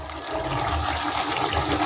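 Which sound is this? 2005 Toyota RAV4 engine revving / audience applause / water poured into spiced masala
water poured into spiced masala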